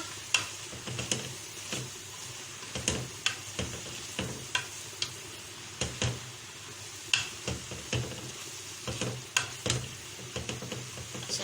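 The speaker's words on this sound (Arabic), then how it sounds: "تاني نحرك فيها لحد ما تدبل معايا" Spinach wilts in a pan while it is stirred repeatedly, each stroke making a scraping tap against the pan. A steady sizzle runs beneath the rhythmic stirring.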